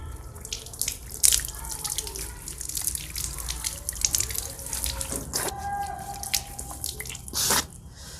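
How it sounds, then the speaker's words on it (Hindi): Water poured from a lota splashes and trickles over skin during wudu washing, in uneven nearby pours and drips with a few louder gushes. "अब मैं लोटे से भी धो करके बताता हूँ।"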